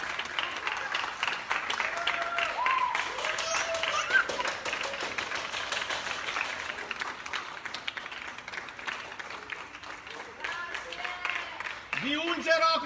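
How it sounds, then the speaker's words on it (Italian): Sustained, dense clapping rises from many people on surrounding balconies, cheering health workers during a balcony livestream for Emergency; the applause holds steady throughout, spread out and somewhat distant, with scattered shouts and voices calling over it. "Solo l'applauso, basta quello"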